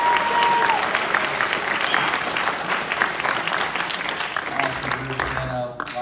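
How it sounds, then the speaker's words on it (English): A high school jazz band concert audience applauds with steady, dense clapping that holds loud for about six seconds, thinning slightly at the end as a voice and a brief tone come in. "Give him a round of applause."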